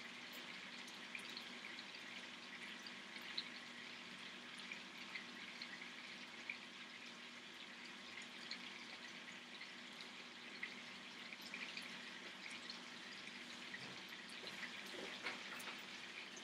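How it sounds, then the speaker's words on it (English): Chicken simmers in a pot, a soft, continuous watery bubbling with scattered small pops and sizzles, quiet and steady throughout. "you can hear the chicken bubbling away"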